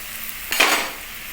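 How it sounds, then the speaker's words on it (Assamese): Chopped onions hit a hot pan while making dhaba-style yellow dal tarka, a brief soft sizzle swelling at the start, then fading to a low steady hiss. "আৰু পিঁয়াজখিনি অলপ ফ্ৰাই কৰি ল'লোঁ"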